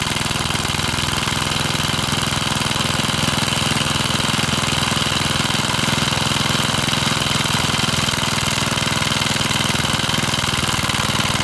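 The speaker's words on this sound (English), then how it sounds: "We'll just let it run through what's in the carb." A vintage Cooper PT 1.3 hp four-stroke stationary engine running on the fuel left in its carburettor, a loud, steady, close chugging idle that holds even throughout with no voices.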